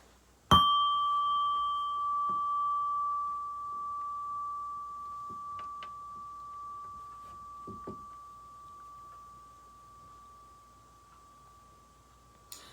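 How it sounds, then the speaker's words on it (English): A singing bowl is struck once and rings with a pure, sustained tone that slowly fades over many seconds, with faint background sounds and a final tap. "listen to the sound of the bell"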